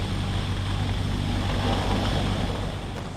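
CH-53K King Stallion heavy-lift helicopter, a loud, dense rotor and turbine roar with deep low rumble, steady throughout and easing slightly near the end, with no talking.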